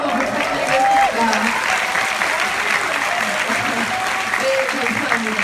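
Audience applause fills a film festival stage greeting for the anime film Your Name in Busan, a steady wash of clapping with some crowd voices mixed in.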